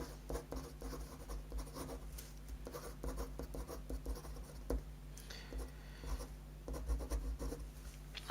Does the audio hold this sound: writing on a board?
yes